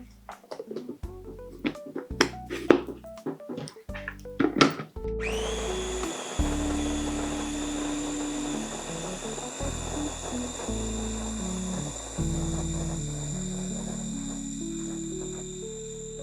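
Beef liver pâté is blended. A few knocks and scrapes come first, then a loud, steady whirring blender runs close up, its pitch shifting as the mixture thickens.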